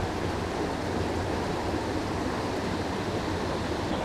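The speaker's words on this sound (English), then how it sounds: "Water's moving so fast through here" Fast-flowing water of the Rapidan River rushes steadily and close by, a dense continuous wash with no pauses, heard alone.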